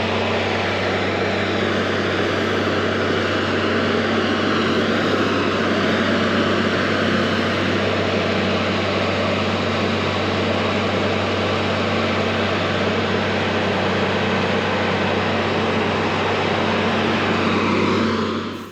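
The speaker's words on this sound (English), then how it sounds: "The 750 CFM air compressor is used to blow out the lines after the job" A 750 CFM air compressor blowing out liquid manure lines on a farm, a loud, steady, broadband roar with a constant low hum, continuous throughout with no talk.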